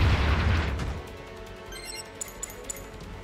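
Mobile suit explosion in Gundam Battle Operation 2, a loud deep boom at the start that fades into a low rumble, followed by faint scattered pops.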